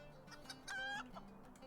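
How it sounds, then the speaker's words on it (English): Chicken clucking sound effects from a video game, a few quiet clucks and a brief drawn-out squawk in the middle, faint and heard alone without talk. "Do I have to put every single chicken noise in here?"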